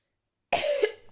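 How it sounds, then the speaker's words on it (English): A single short cough after silence, close and fairly loud, followed by the start of another. "I don't know why I'm coughing."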